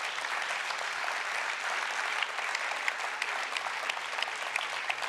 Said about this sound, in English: Can we have a big round of applause for everyone who took part today?